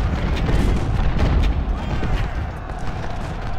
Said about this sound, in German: So, Kanonenfeuer aufteilen.